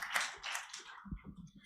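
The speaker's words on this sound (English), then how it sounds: "Please make him feel welcome with a round of applause." Audience applause welcoming a panelist from the North-South Power Co. Limited at a televised business forum, a brief burst of clapping that quickly thins into a few scattered claps and taps.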